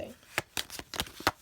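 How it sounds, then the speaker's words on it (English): A deck of playing cards is shuffled in a few quick, close riffles and taps, each a short crisp burst, with a voice speaking nearby. "Shuffle."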